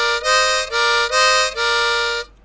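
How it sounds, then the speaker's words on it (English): Harmonica drawn on hole 4, giving four sustained reedy notes in a row with brief dips between breaths, close and loud with no talking, ending abruptly. "And now if I suck out of 4"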